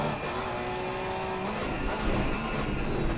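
A race car in a racing video game is heard at Snetterton. Its engine note climbs and drops as it downshifts hard into a tight turn, loud and continuous, with faint tire scrub and no voice.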